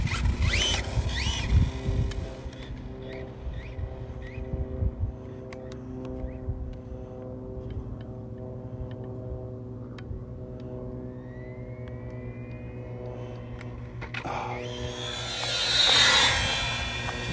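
A Kyosho Fazer MK2 brushless RC car on 2s running at full throttle, a steady whining motor hum with a rising electric whine and a louder burst of rushing noise near the end.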